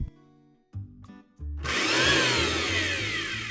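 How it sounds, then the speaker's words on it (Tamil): A mixer grinder grinds sugar into a paste. After a few short stuttering starts it bursts into a loud, steady high whir that runs to the end. "சேர்த்துட்டு நல்லா கிரைண்ட் பண்ணி எடுத்துக்கலாம்"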